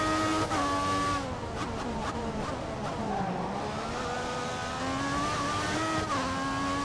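A Formula 1 car in the F1 2014 racing game at Bahrain qualifying, its high-pitched engine whining steadily at half throttle as it drives to warm the tyres, pitch rising and dipping with no squeal or crash.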